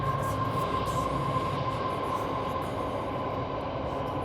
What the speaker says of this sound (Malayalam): അതെന്തോ കണ്ടെയ്നർ ട്രെയിനാണെന്ന് തോന്നുന്നു.